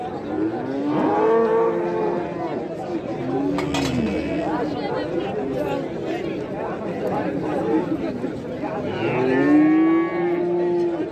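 Several cows low and moo at a cattle market in Oulad Abdoun near Khouribga, with long bellowing calls rising over a busy background of crowd chatter and occasional clinks, loudest near the end.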